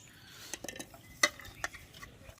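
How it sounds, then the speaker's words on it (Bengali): A spoon stirs rice pudding (payesh) with raisins in a pot, giving soft scrapes and a few light metallic clinks, one sharper, close and fairly quiet. "কিশমিশটা দিয়ে ভালো করে আর একটু নেড়ে নিচ্ছে"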